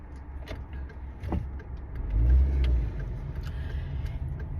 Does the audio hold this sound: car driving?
yes